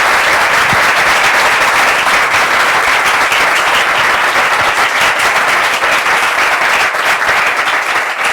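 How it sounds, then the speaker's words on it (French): Loud, sustained applause from a church-program audience, dense steady clapping filling the whole stretch without letup, with no voices heard. "On peut applaudir très fort, public."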